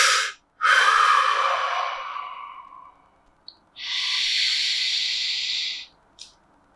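Deep breaths taken close up: a long forceful inhale that fades slowly, a pause, then a steady drawn-out breath of about two seconds, ending with a short puff.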